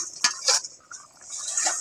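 A pot lid lifts off and a spoon scrapes and stirs through a bubbling curry of freshly picked susni and kulpo greens with fish, two quick metallic clinks followed by a brief hiss of simmering.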